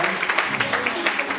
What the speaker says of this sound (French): est-ce qu'on peut applaudir Leslie, Sébastien ici?